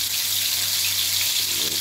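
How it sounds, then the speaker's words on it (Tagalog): Maya-maya fish, seasoned with salt, pepper and garlic powder, deep-frying in a pan of hot oil, giving a steady, dense sizzling hiss with a faint low hum beneath. "Ngayon, magpiprito na tayo."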